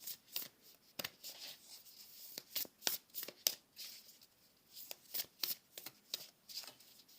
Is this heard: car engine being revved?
no